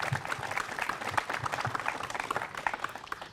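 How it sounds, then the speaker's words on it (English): A crowd applauds steadily throughout at a Juneteenth gathering at the John Brown Tannery in Meadville, with many hands clapping in a dense, even wash heard from within the audience. "Another round of applause."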